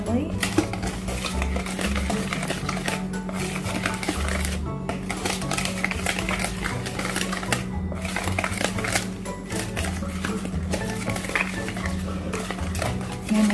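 Carrot puto batter being mixed in a bowl, a steady clatter of utensil against bowl running throughout under a constant low hum, with a voice speaking at times.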